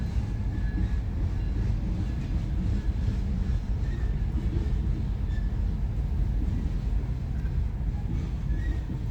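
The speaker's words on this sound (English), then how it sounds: "We won't wait for the whole train." A coal train rumbles steadily past close by near Fort Laramie, Wyoming, a loud continuous low roar with faint rhythmic clatter and occasional thin squeals from the wheels.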